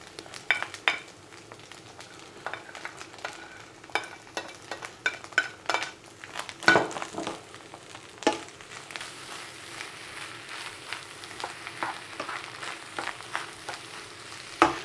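Eggs cooking in a small well in the middle of a pan of other ingredients, a soft steady frying sizzle broken by occasional utensil clinks and scrapes, nearby and moderately quiet with no talking.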